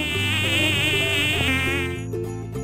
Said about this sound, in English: W as in, wasp.